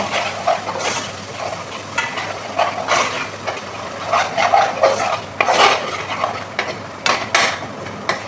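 Tomato paste frying in a pan while spaghetti is cooked, with repeated scraping strokes of a spoon against the pan over a soft, steady sizzle, close and fairly loud.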